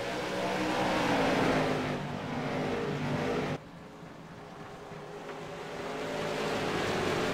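Late model race cars roar around a dirt oval track, a loud sustained engine drone rising and falling as the cars pass, with a sudden drop in level partway through before swelling again.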